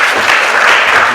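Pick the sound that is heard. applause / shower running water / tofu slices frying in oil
applause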